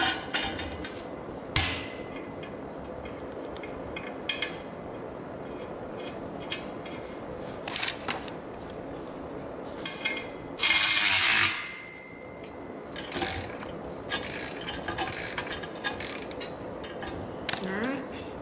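Bolts being tightened on the stand of a Bucktool 2 x 42 belt grinder, with metallic clicks, clanks and ratcheting at irregular intervals, close and moderately loud, one longer harsh grinding burst midway.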